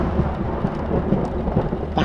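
Night thunderstorm as a story sound effect: dense rain and low rolling thunder rumble steadily and loudly throughout, with no voices.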